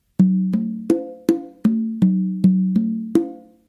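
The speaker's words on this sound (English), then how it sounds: "So I would start with an open on my tumba to my right, then an open on my tumba to my left," Open tones on conga and tumba drums, eight ringing hits in a steady alternating pattern, each sharp attack followed by a short resonant decay, close and clear with no voices.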